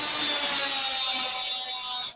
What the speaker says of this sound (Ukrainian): Е, перва відмінність, якою саме легше це все зробити, це болгарка і іскра.